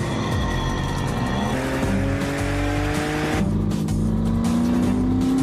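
Animated race cars from Acceleracers roar along at high speed, layered engine tones rising in pitch as they accelerate, loud and continuous, with tire squeal blended into the dense mix.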